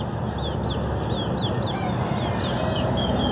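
Young quail chicks, two small males and a female kept in a cage, give a steady series of short high peeping calls over a constant dense background rumble and hiss.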